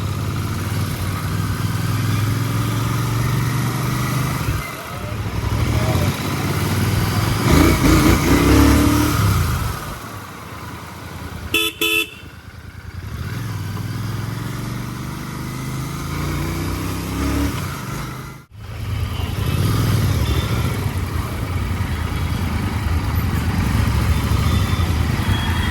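Evening city rush-hour traffic around a Continental GT 650 motorcycle, with engines revving and accelerating close by, the loud rumble easing twice and then building again over the ride.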